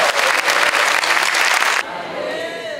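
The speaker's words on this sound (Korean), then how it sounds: "주님 앞에 감사와 영광의 박수 올려드립니다" A church congregation at a Christian mission festival gives loud, dense applause of thanks and glory, clapping packed and even before cutting off abruptly into a quieter room tone.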